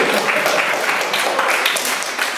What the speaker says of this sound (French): Et tout le monde applaudit Marie, bravo, bravo Marie